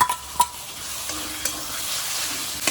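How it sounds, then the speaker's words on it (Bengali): Onion, garlic and ginger paste with chopped tomato fry in hot oil, giving a steady close sizzle with a couple of sharp spits and light stirring clicks. "এগুলো একটু ভাজা ভাজা করব"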